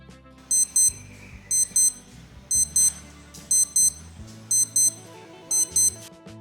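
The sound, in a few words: Casio W-219H watch alarm beeping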